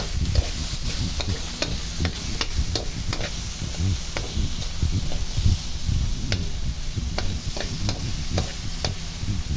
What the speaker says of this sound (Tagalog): At maglalagay tayo ng patis.